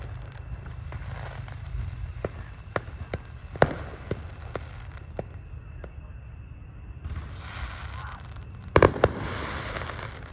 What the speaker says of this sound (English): Just have to pause for a second so I can record more fireworks.